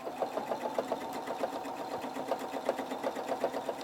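A Husqvarna Viking Opal 690 sewing machine stitches steadily during free motion quilting, its needle ticking in a quick, even rhythm with slight speed changes, close and moderately loud with no talk.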